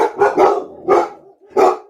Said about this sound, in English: Maybe you hear some dogs barking.